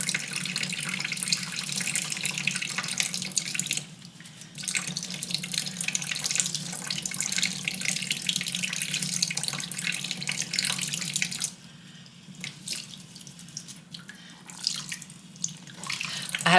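A bathroom tap runs steadily into a plugged sink, a continuous close splashing rush with two brief pauses where the flow drops off before resuming.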